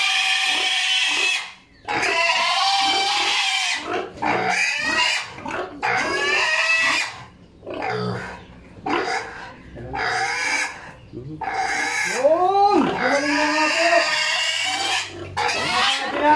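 A pig squeals loudly and repeatedly in shrill bursts with short gaps during blood collection on a farm, close and urgent, with people talking in the background.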